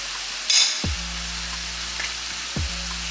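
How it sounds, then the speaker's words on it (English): Ground beef browning in a pan, a steady close sizzle and crackle running throughout, broken by a couple of stirring scrapes and a brief louder spit near the start. "we're going to brown the ground beef"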